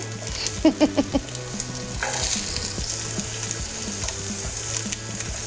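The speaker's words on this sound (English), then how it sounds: "I think our oil is hot, and we are going to put our carrots, celery, onion without the skin" Carrots, celery and peeled onion hit hot oil in a pan with a few sharp clattering knocks, then settle into a steady, close sizzle and frying hiss with occasional stirring.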